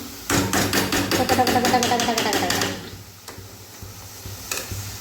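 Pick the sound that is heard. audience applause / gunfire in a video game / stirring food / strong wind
stirring food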